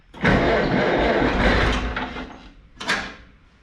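A Farmall Cub tractor engine on choke cranks and catches almost at once, roaring up loud and close, then falling away, with a sharp clunk following.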